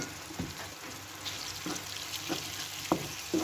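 Onion and garlic frying in oil with herbs, spices and salt, a low steady sizzle broken by several soft scraping stirs and light clacks of a utensil against the pan.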